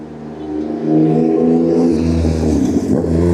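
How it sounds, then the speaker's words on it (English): A loud motorcycle engine drone rises and rumbles steadily as it passes close by through a town street, the pitch shifting as it goes. "Riding that motorcycle through town."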